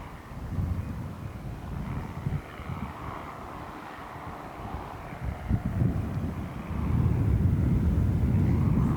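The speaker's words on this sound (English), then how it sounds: "Big gust just came up too, Trevor." A strong gust of wind buffets the microphone on a golf course during the final round of the 2021 Masters Tournament, a rumbling low roar that surges and swells louder toward the end.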